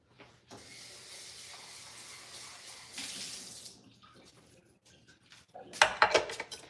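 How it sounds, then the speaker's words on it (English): Tap water runs steadily into a kitchen sink as a dish is rinsed out, a continuous close rush that shifts and stops, then sharp clatters of the dish against the sink at the end. "Let me rinse this out."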